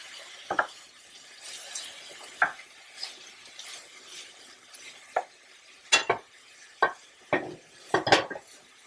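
A pan of vegetables and seasonings for ackee and saltfish cooks down on the stove. A faint sizzle sits under scattered sharp clinks and scrapes of a utensil against the pan, coming in irregular bursts with quiet gaps between.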